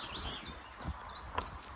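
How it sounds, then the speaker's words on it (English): A chiffchaff sings outdoors in the countryside in summer, a series of thin, high repeated chirping notes spaced at a steady rhythm, faint and somewhat distant over a soft background hiss. "Hear that chiff-chaff above just now?"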